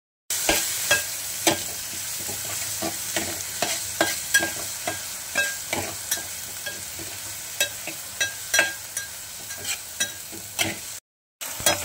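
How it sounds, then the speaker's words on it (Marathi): Onion, garlic, curry leaves and cumin sizzle steadily in a hot pan while a spoon stirs them in regular scraping strokes, close and fairly loud, with no talking. "कांदा आणि हे लसूण, कढीपत्ता, जिरं हे जरा थोडंसं आपण पिवळं होईपर्यंत याच्यावर हलवणार आहोत"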